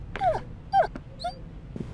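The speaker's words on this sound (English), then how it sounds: "we have a doggo who's a big doggy" A big dog in the home-exploration video game Home whimpers in three short, whiny cries, each sliding down in pitch, heard up close over a low background hum.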